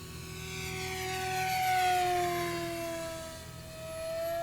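Durafly MFX Racer RC model airplane flying under power, its electric motor giving a steady whine that swells slightly as it passes, moderately near with no voices.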